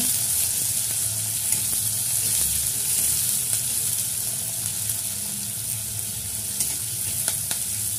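Chopped onion frying in oil in a pan for a mixed vegetable and fish head curry, giving a steady, close sizzle with faint intermittent stirring throughout.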